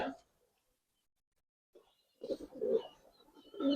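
Giribaz pigeons cooing in a loft, a few soft, short coos between pauses while someone talks nearby.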